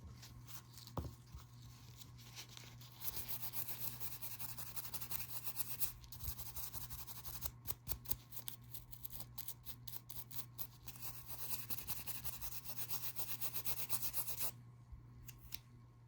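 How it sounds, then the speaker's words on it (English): Nails are wiped down with alcohol on a cloth or pad to clear dust while preparing gel-x nail art, giving a steady close rubbing and scraping texture with brief pauses, no talking. "I do go in with a little bit of alcohol and just wipe everything down and get rid of any dust"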